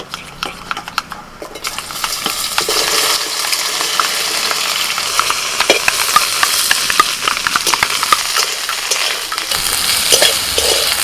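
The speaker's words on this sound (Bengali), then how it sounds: "প্রথমে আমি ঢেঁড়সগুলো ভেজে নেব।" Okra pieces frying in hot oil in a pan, a steady loud sizzle running throughout with occasional clinks and scrapes of a utensil stirring, no voices.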